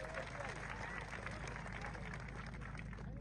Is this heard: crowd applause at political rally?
yes